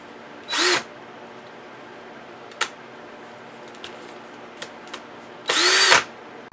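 A DeWALT cordless keyless drill whirs in two short bursts, each spinning up and winding down, with a few small clicks between them, after a chuck repair.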